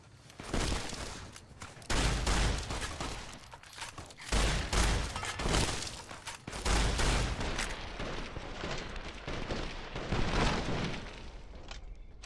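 Shotgun fire in a Fallout game: a series of heavy, booming blasts every couple of seconds, each with a rumbling tail, mixed with other loud combat noise.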